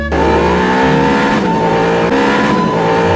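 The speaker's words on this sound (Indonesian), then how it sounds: "Lalu Liu Feng menaiki mobil tersebut dan akhirnya mobil tersebut dibawa Liu Feng." A sports car drives off, its engine revving loudly and close by with sustained rising and falling tones, plus a brief hint of tire squeal.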